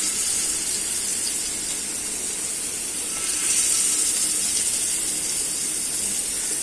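Surmai (kingfish) slices sizzle in oil on a hot tawa, a dense, even hiss that goes on steadily and swells slightly partway through, with no voices.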